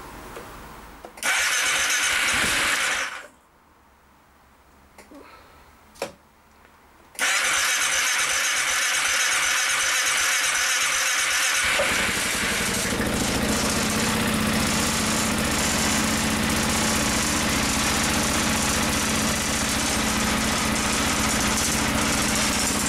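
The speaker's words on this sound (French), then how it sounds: "je vais le démarrer en live" A Piaggio MP3 500 scooter, worn at about 30,000 and with an oil problem through the air filter, cranks with loud whirring bursts and brief pauses, then catches and settles into a steady, close idle.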